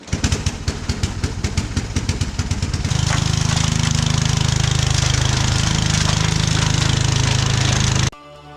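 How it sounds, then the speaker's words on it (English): A tractor-mounted snow blower runs loud and close, its engine chugging in a steady rhythm before rising into a constant roar as the blower throws dense, deep snow, then cutting off abruptly near the end. "Went down and got Dad's walk behind snowblower and put the blower on the tractor."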